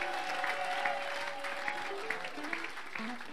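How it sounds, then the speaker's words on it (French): A congregation at a revival service applauds for Jesus Christ, a dense, steady clapping that keeps on at moderate distance, with a voice speaking over it. "Est-ce qu'on peut acclamer pour Jésus-Christ?"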